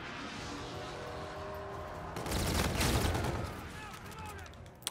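M1 rifle fire in Call of Duty Infinite Warfare, a Tactical TDM match on PS4, erupts as a loud, dense burst of gunfire in the middle of the clip, rising over steady game background noise and then fading.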